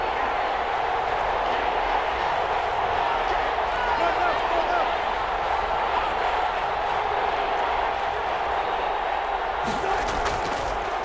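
A Madden NFL 21 game crowd roars steadily ahead of a big third down, a loud, continuous stadium wash that holds for the whole stretch with a brief sharper swell near the end.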